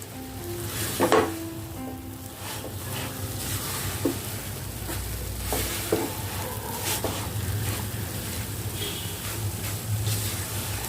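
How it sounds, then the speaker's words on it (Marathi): Sesame seeds, peanuts and jaggery stirred continuously in ghee for chikki, a constant close sizzle with repeated scraping strokes of the spoon in the pan throughout. "हे व्यवस्थित मिक्स करून घ्यायचं आहे आणि याला सतत हलवत राहायचं आहे"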